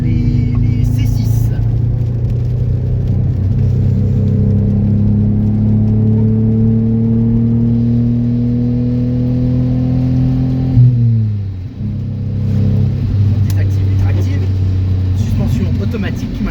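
A Citroën XM V6 24 engine hums steadily from inside the car, with a smooth rising drone as it pulls, a brief dip around a gear change, then settles back; someone talks over it.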